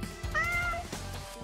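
A cat gives a single clear meow, close and fairly loud, with no talking over it.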